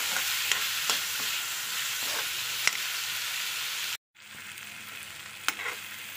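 Green peas cook in a pan with half a lemon's juice, giving a steady close-up sizzle broken by scraping stirs, with a brief silent break partway through.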